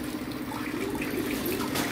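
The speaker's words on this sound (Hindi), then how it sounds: "ये देखिए पानी आने लगा है" Water flows steadily from an RO water purifier tap in a close, continuous trickling stream with a faint hum beneath it.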